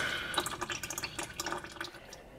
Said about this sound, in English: quite a bit of fluid still in that. So we'll let that drain out.